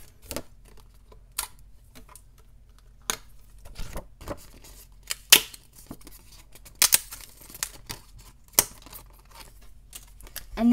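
Sharp, irregular snapping and tearing sounds, close up, as perforated edges are torn off a Canon Selphy photo print in short bursts.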